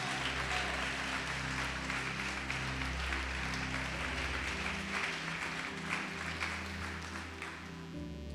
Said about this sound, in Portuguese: Quem está entendendo pode aplaudir o Senhor e glorificar a Deus.